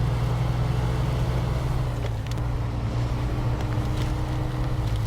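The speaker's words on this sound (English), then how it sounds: "Good old pickup truck." Pickup truck engine in the Snowrunner video game, a steady low rumbling drone that holds at an even level throughout, with a faint windy hiss over it and no talking.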